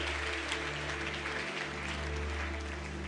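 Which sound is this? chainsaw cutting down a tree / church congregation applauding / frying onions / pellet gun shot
church congregation applauding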